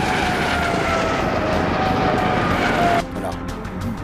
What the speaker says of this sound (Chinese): 雷达发现我上空有 A 军直升机过来